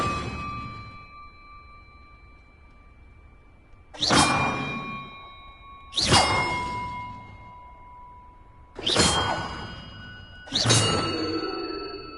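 Bells ring in a video game, four separate chimes sounding one after another with pauses between them, each with a sharp bright strike and a long shimmering ring-out over a faint sustained background tone. No one speaks.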